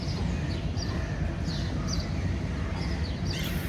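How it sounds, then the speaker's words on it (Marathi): Birds calling outdoors on a family outing, with a few faint, distant chirps rising now and then over a steady, dense background rumble. "फक्त पक्ष्यांचा आवाज येतो."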